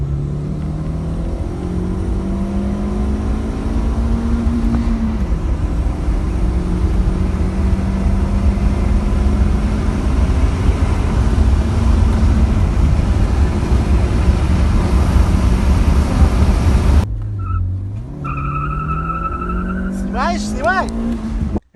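A turbocharged, propane-fuelled Chevrolet Optra engine revs hard and loud, its pitch climbing and falling through repeated rises before it drops back and then spikes again near the end. Someone talks over it.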